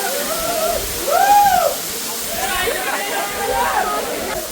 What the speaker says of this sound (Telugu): పై నుంచి వాటర్ ఫాల్స్ ఎలా ఉన్నాయో